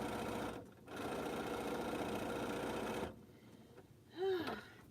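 A sewing machine runs steadily while stitching quilt seams, two long continuous bursts of motor whir separated by short pauses, followed by a brief rising squeak near the end.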